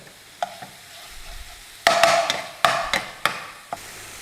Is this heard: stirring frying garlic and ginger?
yes